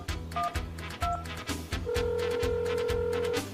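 In a car crash simulator video game, a phone dials a rescue number with a few short keypad beeps, then a steady ringing tone holds while the call connects, heard cleanly without speech.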